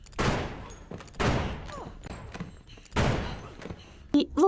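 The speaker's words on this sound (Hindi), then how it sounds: "तब कैरल उन पर गोलियां चलाकर सभी को मार डालती है" Gunfire from the film The Invasion (2007): several sharp, loud bursts of shots spaced about a second apart, echoing briefly, with a short scream or voice near the end.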